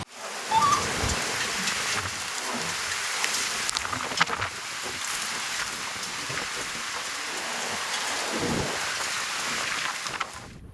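Steady rain falls through monsoon weather in Aravalli district, Gujarat, a continuous close, dense hiss that holds level from start to end with no voices over it.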